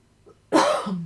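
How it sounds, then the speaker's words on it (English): A single sharp cough bursts out after a brief quiet moment, loud and close, trailing into a low throaty rasp. "I'm going to cough."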